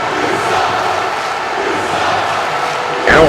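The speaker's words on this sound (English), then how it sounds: "We have a loud, raucous crowd here in Los Angeles" A loud, raucous arena crowd roars continuously during a women's championship match in a created-wrestler video game set in Los Angeles, a dense wash of cheering that swells near the end.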